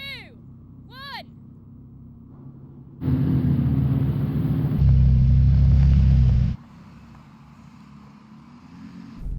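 An Audi R8 on winter tyres launches hard in a drag race. A quieter stretch gives way to a loud, rising engine roar lasting a few seconds, which then drops back to a low rumble.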